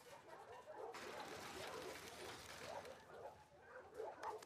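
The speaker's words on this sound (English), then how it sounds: "Hey, you crazy dog." A dog in the video game The Last of Us Part 2 gives faint excited whimpers and yips, soft and somewhat distant over a low background hiss.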